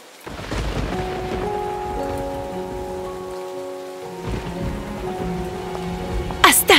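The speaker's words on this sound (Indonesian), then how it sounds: "Astaga, di luar hujan." Rain falls steadily outside as a soft, continuous hiss beneath sustained musical tones, with a few louder knocks near the end.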